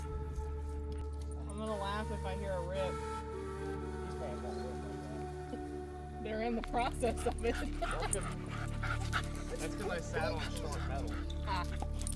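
A dog tangled in its leash whimpers and yips in short high bursts, with faint jangling and people talking nearby outdoors on a hiking trip.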